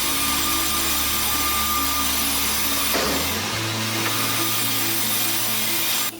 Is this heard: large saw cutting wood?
yes